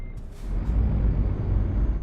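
A heavy truck in Euro Truck Simulator 2 releases its air brakes with a sharp hiss, followed by a deep, steady engine rumble close up.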